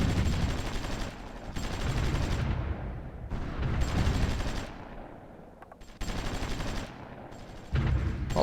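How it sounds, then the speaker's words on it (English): Artillery bombardment in the strategy game Supreme Ruler Ultimate, several long roaring bursts of booming fire separated by short gaps, loud and dense. "they are now bombarding our marines"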